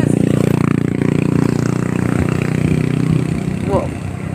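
Motorcycle engine idling and running during a ride in Boac, Marinduque, a steady close low rumble and clatter, with someone talking loudly over it.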